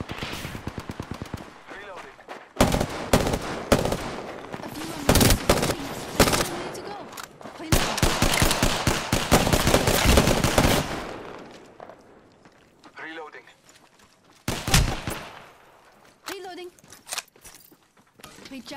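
Bursts of video game gunfire, rapid automatic shots in clustered volleys with gaps between, loud and close, with quieter intermittent shots trailing off near the end.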